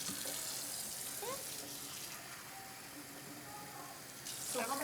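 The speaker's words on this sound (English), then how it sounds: "Let's go ahead and get the water in there." Water runs from a tap into a pot set on an induction hot plate in an indoor kitchen, a steady broadband rush lasting throughout with brief clinks and a louder surge near the end, with soft voices in the background.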